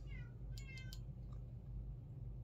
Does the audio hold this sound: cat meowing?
yes